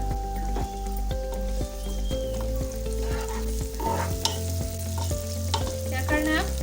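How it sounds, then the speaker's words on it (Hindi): Onions fry in oil over a raised flame for chicken pulao, a steady sizzle with stirring scrapes and knocks against the pan, accompanied by sustained tonal sounds in the background. "प्याज को ब्राउन होने तक हमें फ्राई करना है"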